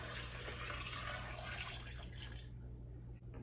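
Coconut water pours into a blender, a steady splashing, gurgling stream for about two and a half seconds that tapers off into quiet.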